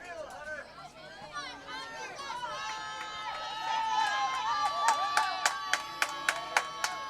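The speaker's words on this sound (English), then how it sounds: "Fans from Williamsport cheering him on." Crowd noise and scattered claps from fans at a Babe Ruth World Series youth baseball game in Williamsport, with a steady hubbub of voices that builds into sharper, rhythmic clapping toward the end.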